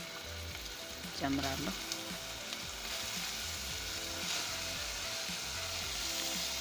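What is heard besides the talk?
chopped red onion frying in oil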